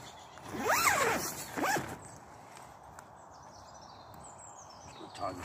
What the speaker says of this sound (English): I'm just gonna zip the tent down for you.